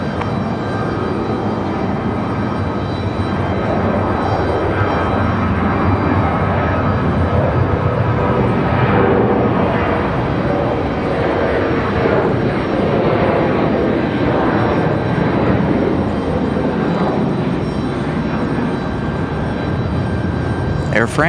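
Air France Dreamliner airliner engines running at Raleigh Durham airport before departure, a loud continuous broadband roar and whine that holds steady throughout, close and dominant.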